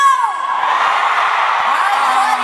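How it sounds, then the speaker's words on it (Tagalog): A studio crowd at a noontime variety show yells and cheers loudly in one sustained, dense roar of mixed voices, close and continuous throughout. "Mas malakas ang sigaw dito!"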